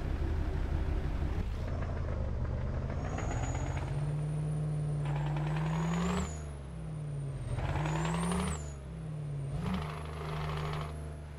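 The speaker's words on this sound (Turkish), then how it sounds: "Egzoz sesi güzel bu arada. Beğendim egzoz sesini." A modified Scania RJL truck in Euro Truck Simulator 2 drones with a deep, continuous exhaust note that swells and dips as the revs shift, topped by thin high whines, with no talking.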